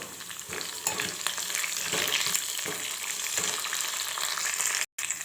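Onion, green chilli and peanuts sizzling in a pan with curry leaves for semiya upma, a dense, steady frying hiss with occasional stirring scrapes and a brief cut near the end.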